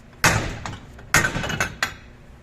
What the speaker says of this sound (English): and hammer this side.